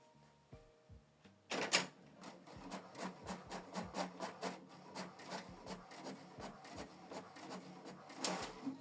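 An HP Deskjet 4130e printer runs a test page: a brief whirring start, then a long series of rhythmic mechanical clacks and rasping paper-feed strokes, fairly faint and close, with no talking.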